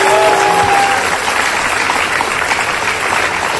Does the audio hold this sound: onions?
no